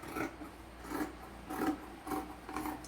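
Scissors cutting through stitched canvas fabric, four steady rasping strokes repeating about every half second, close and fairly quiet with no talking.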